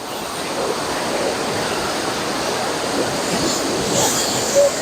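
Water rushing through a canal, a steady close roar of broad hiss that fills the scene without pause, no voices over it.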